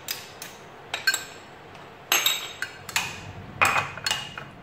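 A utensil knocks and clinks against a bowl while tomato, onion and garlic salsa is mixed, a series of sharp irregular taps close by with no talk.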